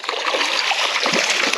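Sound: hooked Sunshine Bass fish splashing in water

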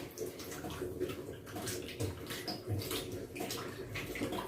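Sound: washing pointed gourd under running water

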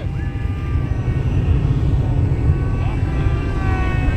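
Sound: RC Hobbyking Yak 54 electric model airplane flying in to land

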